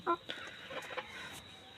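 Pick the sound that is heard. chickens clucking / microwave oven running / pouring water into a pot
chickens clucking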